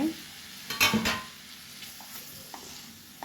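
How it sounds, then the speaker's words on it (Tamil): Masala-coated baby potatoes being stirred in a frying pan, with a couple of brisk scrapes and clinks early on, then a soft steady sizzle with faint occasional taps, no voices. "மசாலா எல்லா இடத்துலையும் படுற மாதிரி நல்லா கலந்து கொடுங்க"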